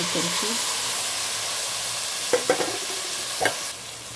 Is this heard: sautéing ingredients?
yes